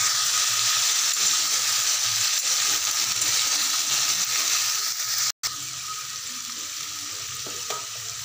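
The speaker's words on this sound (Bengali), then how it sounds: "আলুটা একটু ভেজে নিয়ে লাল করে কাটা দেবো" Potatoes fry in a pan of oil for aloo posto, giving a continuous close sizzle and hiss with faint stirring and a brief dropout partway through.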